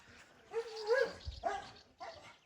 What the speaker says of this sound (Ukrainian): Ав, гавка на кота.